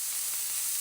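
Cabbage, carrot and eggs stir frying in a pan, giving a steady, loud, close sizzle with a constant hiss and no talking.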